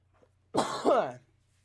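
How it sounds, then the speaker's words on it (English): A single close, harsh cough, short and throaty, from an asthma-related cough, breaks an otherwise quiet moment. "I have a cough left over from asthma."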